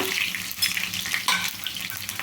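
Cumin, dried red chillies and crushed garlic sizzle in hot oil for a Tamil Nadu-style tiffin sambar, a soft crackling fry with faint stirring scrapes, close and steady.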